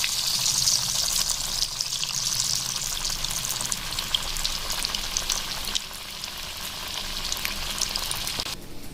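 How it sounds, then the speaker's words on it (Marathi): Egg lollipops frying in hot oil in a kadai, a dense, even crackling sizzle held steady throughout, close and continuous with no talking. "आता मी त्याच्यामध्ये आपण हे जे लॉलीपॉप आहे ते सोडणार आहे"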